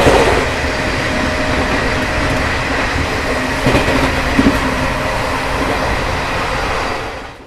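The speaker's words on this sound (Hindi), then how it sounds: "ICF ब्रेक्स में बहुत ज़्यादा नॉइज़ होता है इस स्पीड में।" ICF train coaches run at about 130 km/h with loud, continuous rail roar and clattering wheels, a few sharper knocks and brake noise rising midway, the din fading out at the very end.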